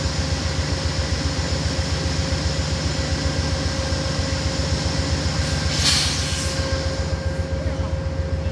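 The Amtrak Lake Shore Limited pulls into Syracuse, making a loud, steady rumble with a rhythmic low pulsing throughout. A brief burst of hiss rises near the end.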